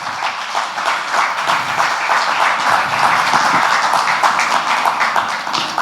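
A church congregation breaks into sustained, dense applause during a sermon, the clapping steady and fairly loud throughout with no speech over it.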